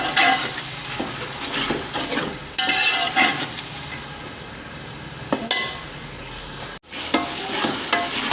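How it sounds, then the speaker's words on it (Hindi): Garlic-ginger paste sizzles loudly while frying in a pan for a bhindi dish, with continuous crackling broken by the scrape and clatter of a spoon stirring, up close and without talk. "इत्थे हुण 3 तो 4 मिनट लहसुन अदरक की बुनाई करसां।"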